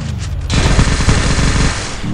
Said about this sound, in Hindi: अभी मेरे को मरने के बाद यूएमपी मिली है तो मैं वही चला रही हूँ